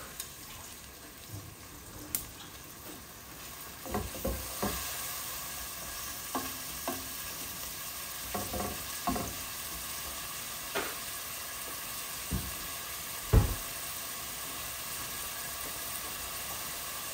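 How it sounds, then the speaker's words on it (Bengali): Hot water poured into a sizzling pan of cooking prawns and okra, a faint steady frying hiss broken by scattered soft clicks and small pops, with no one talking. "এখন আমি একটু হট ওয়াটার দিয়ে দিচ্ছি"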